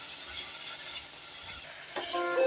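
Tomato paste sautéing in a pan for rasam, a steady soft sizzle with brief stirring sounds, the frying growing a bit louder and brighter near the end.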